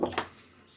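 Two quick clinks of a utensil against a bowl while banana cake batter is stirred together, close and brief, then fading into quiet.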